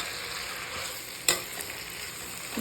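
Bitter gourd sautés in a pan with a soft, steady sizzle close by, broken by one sharp utensil clink partway through and a light scrape near the end.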